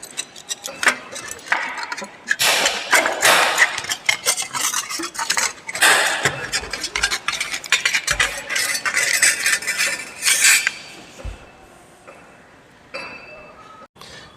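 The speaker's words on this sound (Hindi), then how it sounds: "तो इसे गोलाई में हम स्निप बेंट लेफ्ट कट के द्वारा काट रहे हैं।" Bent snips cut a thin metal sheet in a circle, giving rapid metallic clicks and chinks that come in dense, irregular bursts and then thin out near the end.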